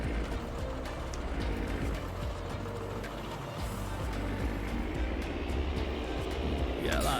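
Tractor engine in a farming video game labouring under a heavy load of bales, a continuous low drone that stays steady and loud throughout, with a voice talking faintly over it.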